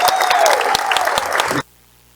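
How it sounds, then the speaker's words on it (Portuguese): Applause for a vice-mayor at a press conference, a dense burst of many hands clapping loudly for about a second and a half, then stopping abruptly into near silence. "eu peço uma salva de palmas para a nossa vice-prefeita"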